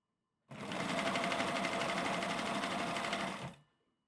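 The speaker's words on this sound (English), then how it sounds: "sewing it first on a sewing machine before you do the overlocker stage" A sewing machine stitches a chicken kigurumi onesie in one steady, loud run of rapid mechanical clatter, lasting about three seconds before stopping abruptly.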